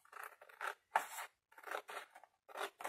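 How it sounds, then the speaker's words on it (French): Scissors snip through scrapbook paper in a straight line, a series of close, crisp rasping cuts in short bursts separated by brief pauses. "Vous coupez tout droit jusqu'en bas."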